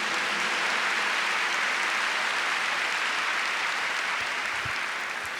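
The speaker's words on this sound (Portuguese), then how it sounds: "Eu queria que você aplaudisse o Salvador," A church congregation applauds loudly and steadily throughout, a dense wash of many hands clapping close and continuous, easing only slightly toward the end.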